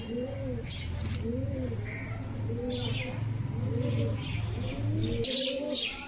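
Pigeons coo in repeated soft, rhythmic phrases at Beldanga market, with a few brief chirps and faint background market noise.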